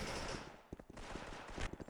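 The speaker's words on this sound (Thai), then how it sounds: "คือเกิดมาแล้วก็ยิงกันเลยนะฮะ" Gunfire from the mobile FPS game SF Mobile (Special Force M Remastered) in a free-for-all match: quiet, dense rapid-fire bursts and single shots crackle continuously, with sharper cracks near the end.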